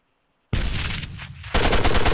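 Pistol gunfire in the military video game Arma 3: after a brief quiet lead-in, a loud burst of rapid close shots, which grows denser and heavier toward the end, with no talking.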